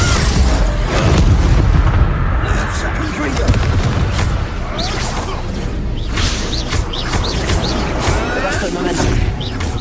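Incendio fire spell bursts in Hogwarts Legacy combat, booming blasts and crackling impacts layered over game effects, with character voices talking throughout.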